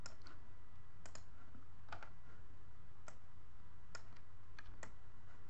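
Computer mouse clicks in the Unity editor, about eight sharp isolated clicks spaced irregularly over a constant low hum, with no talking.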